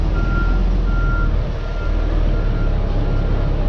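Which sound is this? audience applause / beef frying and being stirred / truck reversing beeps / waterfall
truck reversing beeps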